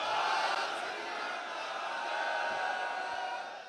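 A crowd at a Sikh political rally shouts a slogan back in response, a loud, sustained mass roar of voices that holds for a few seconds and then starts to fade.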